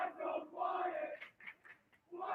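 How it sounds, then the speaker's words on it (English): Hockey fans at Rockville Ice Arena chant in rhythmic bursts across the rink, distant and echoing, with shouted syllables rising and falling in a repeating pattern. "The Landon crowd is asking the Bullis crowd very nicely, why are they so quiet?"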